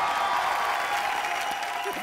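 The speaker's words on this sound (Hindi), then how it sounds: "तालियां मनीष के लिए।" An audience at a comedy and entertainment show claps continuously in a dense wash of applause, fairly close and steady, with no talk over it.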